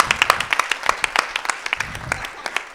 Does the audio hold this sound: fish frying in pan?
no